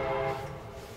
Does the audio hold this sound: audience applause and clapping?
no